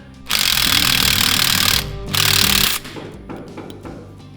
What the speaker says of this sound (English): get the top bolt last and loosen it